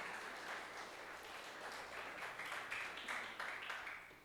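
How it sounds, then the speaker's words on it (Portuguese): Church congregation applauding during a sermon, a faint, even patter of many hands clapping at a distance that holds steady for a few seconds. "Você poderia aplaudir a Jesus, você poderia glorificar a Jesus."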